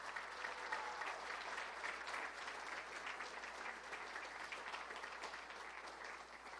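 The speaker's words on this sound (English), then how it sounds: "So how about a round of applause for that team?" Audience applause at a ribbon cutting for the Anchor Mariner's Inn: a dense, steady wash of many hands clapping together, sustained evenly for several seconds with no voices over it.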